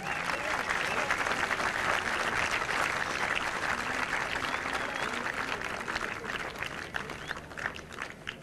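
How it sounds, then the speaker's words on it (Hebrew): An audience applauds at a graduation ceremony, steady and dense clapping that lasts throughout at moderate distance, with a faint voice under it. "קהל נכבד, מגיע להם מחיאות כפיים"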